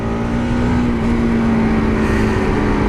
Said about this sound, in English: opening up the throttle in the higher RPMs, the engine feels better